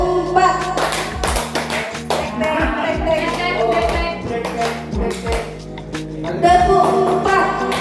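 Rhythmic group hand clapping in a classroom-style clapping game, sharp claps falling in counted patterns over music and background voices, loud and steady throughout.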